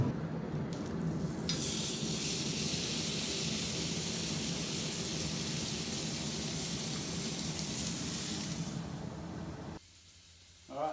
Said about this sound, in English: It's got to about 48 degrees, so we want to try and get that up through the sear